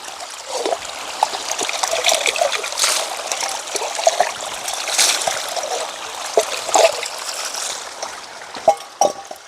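Tap water trickles and splashes while a drinking glass is rinsed at an outdoor spot on a plot of land, a steady close stream with small spatters and clinks, no voices.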